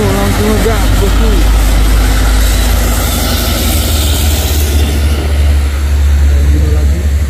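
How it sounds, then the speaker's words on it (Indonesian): Hino tanker truck accelerating hard uphill on a steep hill road, a loud, steady engine roar with a deep low rumble throughout, and someone talking over it at the start. "Tangki Hino langsung ngegas"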